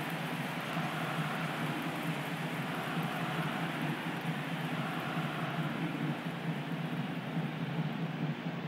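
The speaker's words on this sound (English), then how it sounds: "rain has been falling steadily" Steady rain falling, a constant soft hiss of even density without pauses, heard alone at moderate distance.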